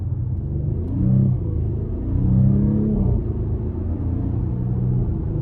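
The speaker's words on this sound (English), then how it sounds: "this exhaust is just so great. It's just fun to put your foot into in terms of just getting it up and going" A 2023 Audi SQ5 accelerating, its exhaust giving a steady low rumble that swells in two surges as the throttle is pressed, close and fairly loud with no talking.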